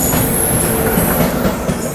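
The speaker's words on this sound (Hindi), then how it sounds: "और किसी गाड़ी के साथ क्रॉसिंग यहाँ पे हो रही है।" Indian Railways Karnataka Sampark Kranti express passing another train at a crossing near Mathura Junction, a steady loud rush of rolling wheels and rail noise with faint squeals, continuous and close throughout.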